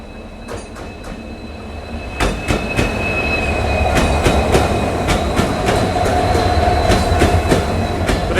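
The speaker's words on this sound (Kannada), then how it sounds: "ಐ ಗೆಸ್ ಇವಾಗ ನಮ್ಮದು ಕ್ರಾಸಿಂಗ್ ಆಗುತ್ತೆ ಯಶವಂತಪುರ ಕಾರವಾರ ಎಕ್ಸ್ಪ್ರೆಸ್" Yesvantpur–Karwar Express passing Donigal railway station, a loud, close rush of rolling wheels with rhythmic clickety-clack beats and faint wheel squeal, building after a quieter start and holding steady, with no voices.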